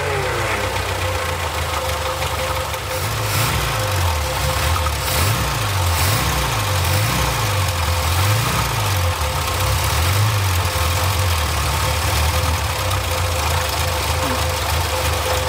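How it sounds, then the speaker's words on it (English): Austin-Healey Sprite barn find with a leaking fuel pump gasket, its engine idling steadily and unevenly with a loping rhythm, loud and close for a long stretch with no talking. "Now I'll start the car, let it run for a little bit,"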